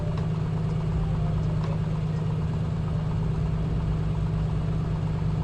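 Piston engine of a Piper Comanche aircraft in Microsoft Flight Simulator, a steady low droning hum holding constant throughout, with no talk over it.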